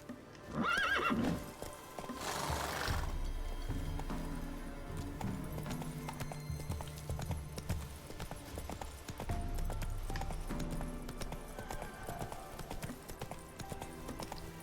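In The Witcher 3, a horse whinnies sharply at the start, followed by steady clip-clopping hooves and game ambience that continue throughout at moderate volume.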